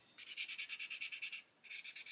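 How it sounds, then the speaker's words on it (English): Quick, rhythmic back-and-forth scratching of a hard sanding stick on plastic parts of a 1/24 scale Airfix Spitfire Mk.IXc model kit, about a dozen strokes, a brief pause, then several more, close and crisp. "you can see there where it's sanding it away"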